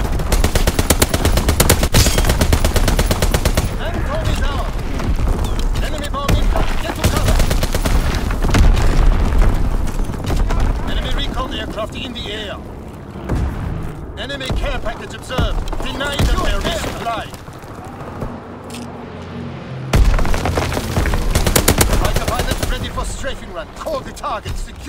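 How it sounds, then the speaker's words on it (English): Heavy artillery barrage and machine gun fire in Call of Duty WWII domination on the Shipment 1944 map: loud, continuous gunfire with booming impacts, briefly easing mid-clip before surging again. "Incoming enemy artillery. Get to cover."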